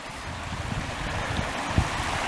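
A stream runs near the old Turnbridge homestead site in Shenandoah National Park, its water rushing in a steady, fairly loud wash with no talk over it.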